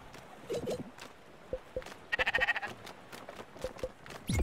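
Sheep bleating in the video game Spiritfarer, a short call followed by a louder, wavering bleat midway, with scattered light taps around them.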